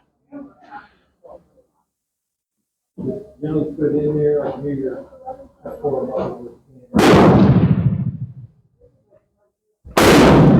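A Portuguese Vergueiro rifle fires two loud, sharp shots several seconds apart, each with a short booming decay, preceded by someone talking close by.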